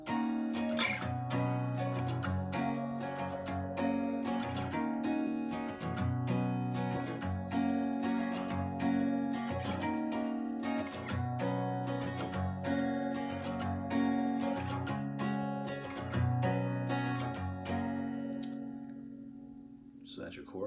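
Acoustic guitar strums the chorus chords of a country song, steady rhythmic strumming with bright picked overtones, played alone at close range for about eighteen seconds before ringing out.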